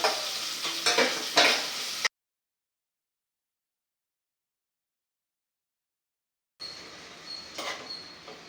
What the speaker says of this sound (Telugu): తాలింపులో ఉల్లిపాయలు పచ్చిమిరకాయలు వేగిన తర్వాత టమాటా ముక్కలు కూడా వేసి వేయించేద్దాం